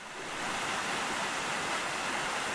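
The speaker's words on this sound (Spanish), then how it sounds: "Aquí estamos viendo la clásica cascada de Mazobre" Mazobre waterfall in Palencia, a steady broadband roar of falling water heard close and loud, swelling up in the first half-second and then holding constant with no voices.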